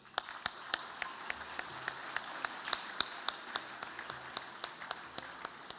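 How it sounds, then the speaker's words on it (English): Banquet audience applauding soccer award finalists at the Missouri Athletic Club Hermann Trophy event, with steady applause and distinct, evenly spaced sharp claps standing out near the microphone. "Let's give them a round of applause"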